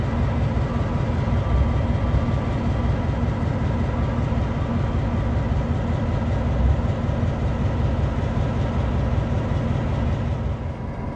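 An MP15 diesel locomotive of the Long Island Rail Road idles on standby at Long Island City, a steady, loud low rumble with an even mechanical chug throughout, no voices over it.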